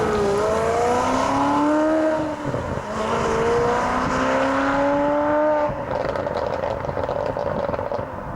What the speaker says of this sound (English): with a glorious sounding Ferrari V8 engine too